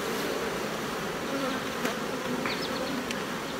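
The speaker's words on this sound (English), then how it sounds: "all these boxes have bees actively working inside here." Honey bees buzz in a dense, steady drone at the front of busy hive boxes, loud and close, with the occasional single bee zipping past and no voices.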